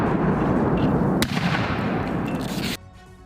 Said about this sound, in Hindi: दूसरी तरफ से गोले बरसाए जा रहे हैं